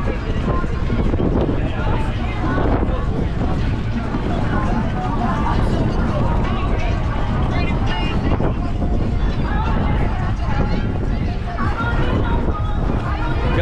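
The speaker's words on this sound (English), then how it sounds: "It is just really crazy windy today." Strong gusts roar and buffet the microphone at a crowded sandbar in Islamorada, where a barge struggles to anchor; loud, steady wind noise fills the whole stretch with voices faintly mixed underneath.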